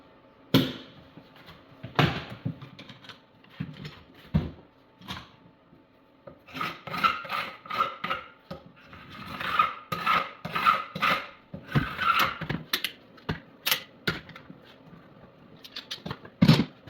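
Dried glue being scraped off glued-up wooden table leg blanks after removal from the clamp, heard as irregular rasping strokes and scrapes with short pauses, close and moderately loud, no talking.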